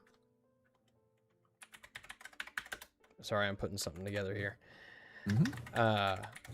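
Rapid clacky strokes on a loud computer keyboard in bursts, close and crisp, followed by someone talking over further keystrokes.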